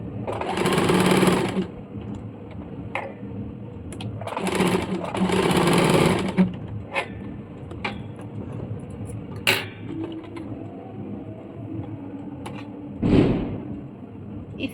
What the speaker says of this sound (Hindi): अभी हम लोग इसमें टेकिंग का भी सिलाई कर लेते हैं।